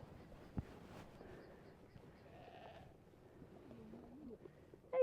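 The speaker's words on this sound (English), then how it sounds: "these goats want to push through before the gate's even open" Goats crowding at a farm gate, giving a few faint, wavering bleats over a low, steady outdoor background, with a sharp knock early and a louder sound at the very end, no clear talking.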